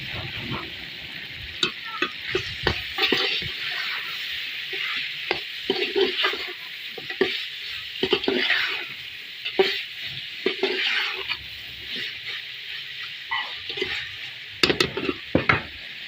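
Fenugreek leaves go into a hot pan for chicken and cauliflower and are stirred, a steady hiss of sizzling broken by scraping spoon strokes and light clinks of metal, close and fairly quiet.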